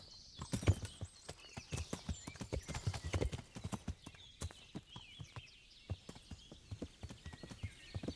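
Horse hooves clip-clopping in the medieval game Kingdom Come Deliverance, a steady walking rhythm of sharp close knocks continuing throughout with a brief whinny-like sound early on.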